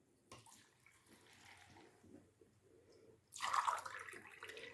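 Water is poured from a tap into a measuring cup while salting lupini beans. A soft trickle comes first, then a louder, steady, close splashing stream fills the cup, with no talking.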